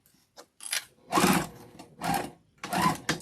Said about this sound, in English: I'm just going to sew into these pins and then stop.